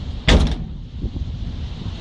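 A single loud, close thud as the door of an East German Barkas van swings shut against the wind, followed by wind buffeting and low rumbling.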